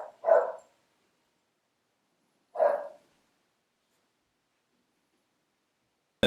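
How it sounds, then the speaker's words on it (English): A dog barks twice indoors, two short separate barks a couple of seconds apart with silence between, followed by a brief burst of sound at the very end. "because my dog was barking"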